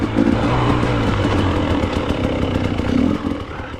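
A dirt bike on a hare scramble trail runs a steady, buzzy engine note close by, its revs rising and falling slightly as it picks along rocky ground.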